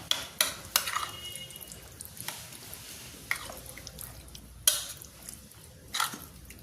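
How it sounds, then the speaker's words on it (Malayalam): Gooseberry pachadi stirred with salt in a bowl, giving a few intermittent clinks of a spoon against the dish and soft wet stirring sounds close by. "എന്നിട്ട് ഞാനൊന്ന് മിക്സ് ചെയ്യാണ് കേട്ടോ"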